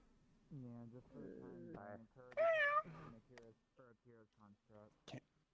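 Meows heard in VRChat, a string of drawn-out and then short cat-like calls, seem to come from a person imitating a cat. One call rises sharply in the middle, and a few brief chirps follow at the end.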